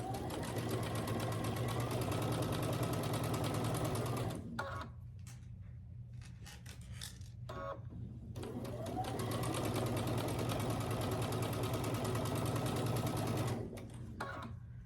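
Sewing machine stitching quilt pieces for a scrappy star quilt, two long steady runs of rapid mechanical whirring with a brief pause and light handling clicks between them.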